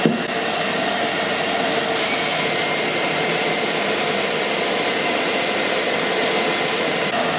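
A power saw cuts into wood with a blade depth of about 45 millimetres, giving a loud, close, unbroken roaring hiss that holds steady for several seconds with no voices.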